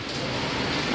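Rain falls steadily in Vietnam, making a continuous, even hiss of drops on surfaces with no talking.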